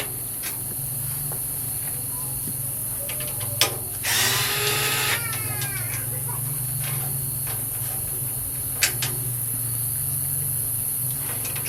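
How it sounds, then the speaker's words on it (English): Old PC case fans being unscrewed and removed as a Ryzen 7 3800X system is built: a short burst of a power screwdriver whirring, with occasional sharp clicks and taps against a constant background hiss and hum. "First thing I'm going to do is remove the old fans."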